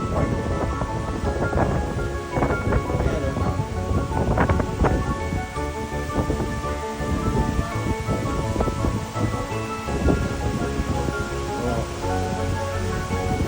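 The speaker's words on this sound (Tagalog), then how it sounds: "check nyo naman yung lakas ng hangin." Strong monsoon wind on an island roars and buffets continuously, with rumbling gusts and rustling, loud and close, and voices faintly mixed in.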